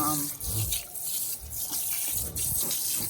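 A kitchen tap runs steadily into a sink while an item is rinsed under it, with splashing shifts in the flow; close by, with soft talking mixed in.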